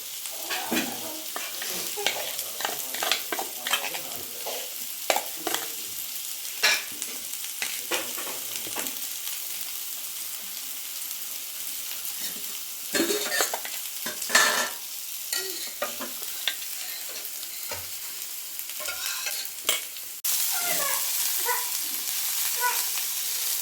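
Onions frying in oil in a pan for homemade gobi manchurian, a continuous close sizzle broken by repeated stirring scrapes, no speech.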